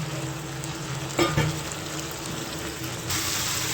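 Cauliflower pakoras go into a pan of frying potatoes and spiced curry base, giving a steady, close sizzle with a short bump and rattle as they drop in, then continued hissing.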